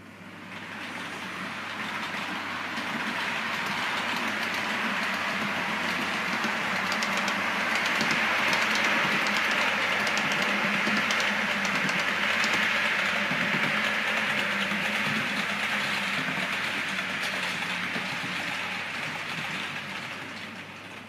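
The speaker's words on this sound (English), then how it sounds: "On the down line, four number two HAP units are about to pass by." Two model railway 4HAP electric multiple units run past on the down line of a layout. A steady rolling rumble swells as they approach, holds loud and even through the middle, then fades away, with no speech.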